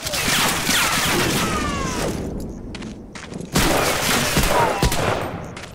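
Rifle fire from the video game Medal of Honor: Spearhead, with an M1 Garand among the weapons: dense, loud overlapping gunshots and explosive booms in sustained battle, briefly easing before a fresh heavy volley.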